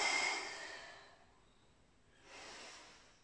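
Exhaled breath blown out during a kids' toe-touching exercise, with a breathy whoosh at the start that fades, then a second softer breath near the end, close and with no talking.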